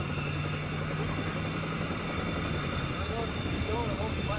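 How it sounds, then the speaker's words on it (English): A helicopter flies at a space shuttle launch site, its engine and rotor making a continuous droning rumble with a faint low throb, steady and moderately loud, while people talk faintly over it. "There's our helicopter."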